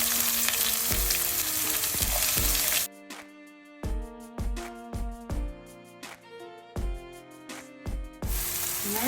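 Chopped onions hit hot oil with fennel seeds and curry leaves, setting off a loud, continuous crackling sizzle that gives way to bursts of stirring and scraping in the pan before the full sizzle returns.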